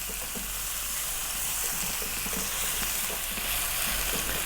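Chicken fried rice stir-fries over high heat with a steady, bright sizzle and occasional scraping stirs, close and continuous with no talking.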